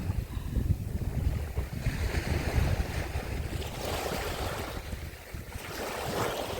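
Calm Black Sea waves wash steadily against the shore at Odesa in a continuous soft roar, with gusts of wind buffeting the microphone and no voices.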